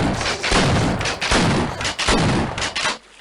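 Rapid bursts of video game gunfire crack out in loud clustered volleys with short gaps between them, then cut off abruptly near the end.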